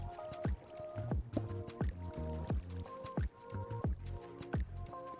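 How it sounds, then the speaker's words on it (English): Rhythmic splashing and dripping from water wheels turning in Minecraft, a steady run of wet plops repeating about once a second over a soft musical tone. "it leads to two large water wheels outside, which will provide a lot of needed power for our machines"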